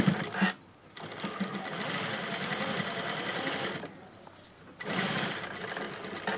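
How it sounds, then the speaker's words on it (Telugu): A sewing machine stitches blouse fabric in close, steady runs that pause twice briefly before the stitching resumes. "కొంచెం ఇక్కడ గ్యాప్ వదిలి కుట్టుకోవాలి"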